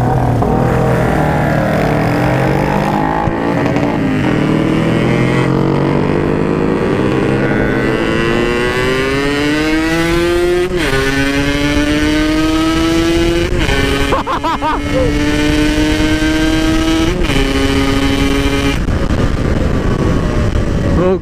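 A stock, unmodified Yamaha RX King two-stroke motorcycle sits idling at a red light, its engine loud and close with a steady burble that rises into revs and falls back several times, alone with no talk.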